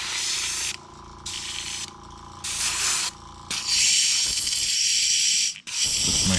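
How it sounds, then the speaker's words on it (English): An Iwata HP-CS airbrush sprays out during cleaning, loud bursts of hissing air in on-off pulses that end in a longer continuous spray with one short break. "And then I usually try to spray out."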